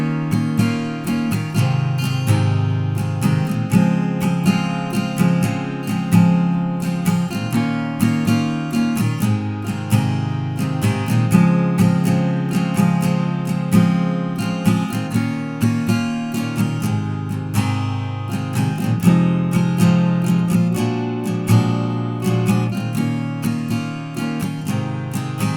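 Guitar strumming and fingerpicking the easy chorus chords of a song, steady rhythmic strums with a full, sustained tone throughout, loud and alone.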